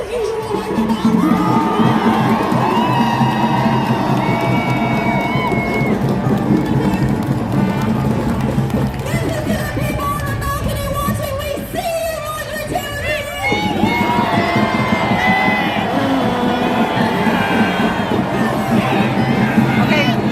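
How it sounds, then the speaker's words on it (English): A protest crowd in Washington's Cannon Building yells and cheers in a loud, continuous roar of overlapping voices and whoops, with a brief dip partway through before the shouting surges again. "some people are yelling F you"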